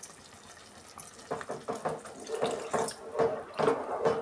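Water is poured into a pan of potato saagu thickened with gram flour, a splashing, pattering pour that swells and gurgles over several seconds, close and moderately loud.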